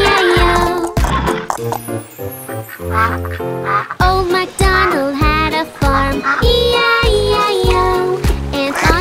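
Duck quacks in the Old MacDonald nursery rhyme are sung by voices imitating the sound, repeated in a bouncy rhythm over loud children's music with jingling accompaniment.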